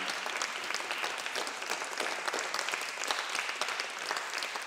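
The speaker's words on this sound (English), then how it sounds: "I would love for you to applaud them now." A workshop audience applauds steadily with dense, even clapping that fills the whole stretch at moderate loudness, without a break or pause.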